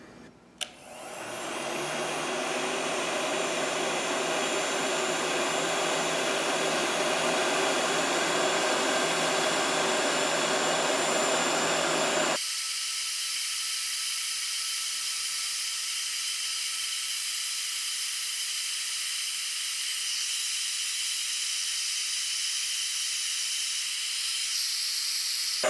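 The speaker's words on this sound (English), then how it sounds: "We'll start by blasting it with a heat gun." A heat gun blasts hot air in a steady, loud, close roar with strong hiss, running continuously; partway through its low rumble drops away, leaving a thinner high airy hiss.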